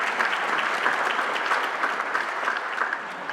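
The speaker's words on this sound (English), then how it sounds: "she deserves a round of applause" Symposium attendees give a sustained round of applause, a full, even roar of many hands clapping nearby, easing slightly toward the end.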